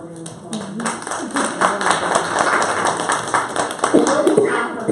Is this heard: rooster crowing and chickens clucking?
no